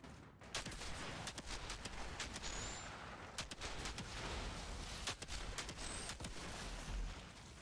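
Quiet bursts and sharp cracks go off in rapid, irregular succession during Outriders Technomancer combat, layered over a constant low rumble of game noise.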